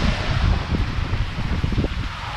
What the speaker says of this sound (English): The wind is just blowing really bad.